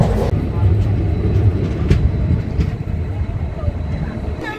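A night train rumbles steadily on its run toward Puri and the Chilika area, with a loud, constant low roar and occasional clacks and thumps from the carriage.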